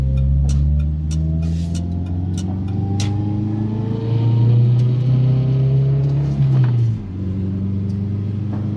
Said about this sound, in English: This is my Skoda at max power.